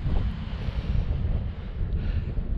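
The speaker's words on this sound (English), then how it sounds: "It's lovely, the breeze blowing" Wind gusting across an open hillside in the Scottish Borders, a steady low rushing buffet against the microphone with no voices.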